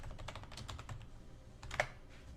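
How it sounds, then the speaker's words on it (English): Quick bursts of typing on a computer keyboard, light clicky keystrokes in a fast run then a short pause and a final few taps, close and quiet. "I'm just going to type in skill endeavors."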